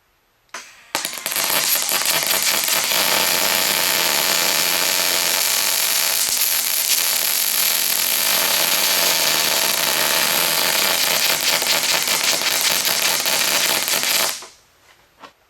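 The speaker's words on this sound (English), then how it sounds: "I'm going to have to weld a nut on here" Welding a nut onto a stuck plug on a Mopar 383 engine: a loud, steady crackling arc runs continuously for about thirteen seconds, starting abruptly and cutting off sharply, with no talking.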